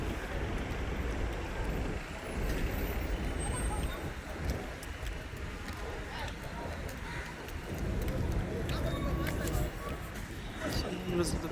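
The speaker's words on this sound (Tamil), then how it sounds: "இந்த சென்னைக்குள்ளே சுற்றுற பஸ் இது" A local MTC city bus in Chennai idles and moves at a bus terminus, a steady low engine rumble mixed with surrounding traffic noise, with a person talking over it.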